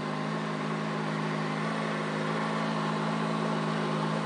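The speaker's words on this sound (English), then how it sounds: "So it looks like the bike is running again" A motorcycle engine idling steadily after a battery replacement, a continuous even hum with no talk over it.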